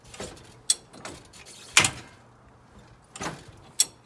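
Hi-Lift farm jack being ratcheted up, giving a few separate sharp metallic clacks spaced irregularly, one louder than the others, set against a quiet background with faint low hum.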